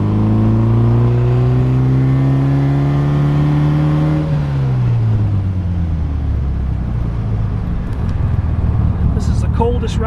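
The engine of a 1962 MGA 1600 Mk. II fitted with a new header and Monza exhaust pulls as the car is driven, its note climbing before easing into a lower drone, close and steady, with faint clicks near the end.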